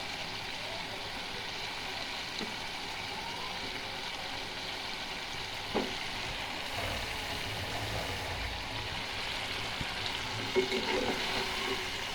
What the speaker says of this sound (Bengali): প্রথমে আমি মশলার সাথে আলুটা একটু কষিয়ে নেব